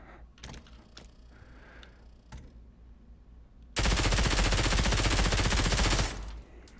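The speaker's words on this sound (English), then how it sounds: "The firepower is still really good for the PP Bison." A PP Bison submachine gun in the Pavlov VR game: after a few faint clicks and handling knocks, a loud continuous burst of automatic fire lasts over two seconds, then stops abruptly.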